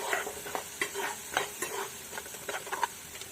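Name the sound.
spices (masala) frying in oil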